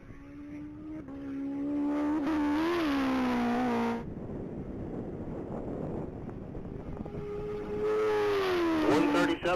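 An orange 2014 Kawasaki Ninja ZX14R makes a top-speed pass at the Texas Mile. The high engine whine rises and falls in pitch, drops into a rushing roar of wind, then the whine climbs again.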